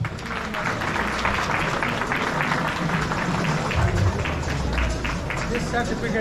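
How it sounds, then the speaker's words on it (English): A crowd at an alumni meet in Atlanta applauds a sponsor: continuous clapping mixed with crowd hubbub and voices, with the claps fairly loud and sustained for about six seconds. "Round of applause for Paniji, please."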